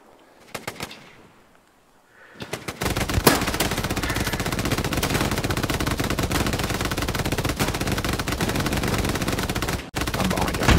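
Heavy gunfire from the World War II shooter game Hell Let Loose: after a few scattered shots, sustained rapid automatic fire erupts and continues loudly almost without pause, with a brief break near the end.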